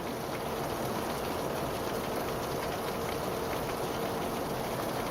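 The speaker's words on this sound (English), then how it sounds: "Kind of like a movie set rain, isn't it?" A gentle, steady hiss of light rain falling in the afternoon, continuous and fairly faint with a faint low rumble underneath and no talking.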